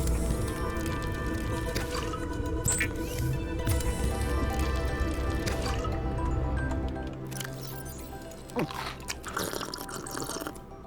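Water being drunk in the underwater survival game Subnautica Below Zero, with liquid squishing and dripping over a steady ambient underwater bed for most of the clip, joined by a few brighter splashy bursts toward the end.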